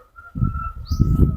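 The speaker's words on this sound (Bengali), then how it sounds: "পাখি ডাকছে" Birds call in the background, with a steady high note held throughout and softer low cooing-like sounds rising and falling beneath it.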